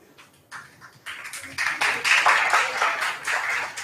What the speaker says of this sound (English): If you are happy, give me a round of applause.